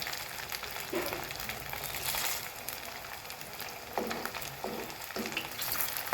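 Raisins fry in hot oil in a pan while cooking a Bengali pitha, a steady broadband sizzle with a few soft stirring knocks, close and fairly loud, no talk.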